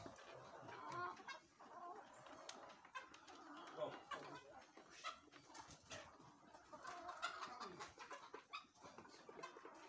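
Many chickens cluck and coo together in a busy, continuous chorus, with birds calling close by and farther off.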